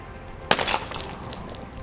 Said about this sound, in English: The concrete block shatters